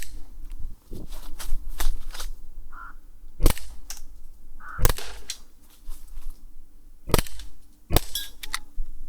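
Umarex Glock 17 air pistol firing outdoors, several sharp loud pops spaced irregularly over a steady background hum, with faint handling clicks between shots.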